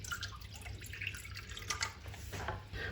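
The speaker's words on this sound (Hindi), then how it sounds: "हाफ कप मैं डालूंगी पानी अभी" Water trickles and drips into a bowl of roti flour while mixing dough, with light irregular splashes close by in a quiet indoor setting.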